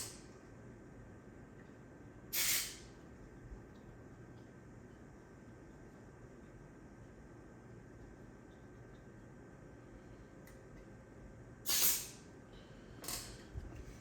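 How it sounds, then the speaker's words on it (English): Contact cleaner sprayed from an aerosol can into a classic floppy disk drive, two or three short hissing bursts, close and crisp, separated by long stretches of quiet room hum. "So I just basically spray some in there."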